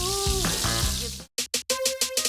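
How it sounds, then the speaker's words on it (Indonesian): Battered tempeh mendoan with spring onion crackles in hot oil, a loud dense sizzle that cuts out briefly, then returns in short, sharp bursts. "Nah, kali ini kita mau goreng tempe mendoannya."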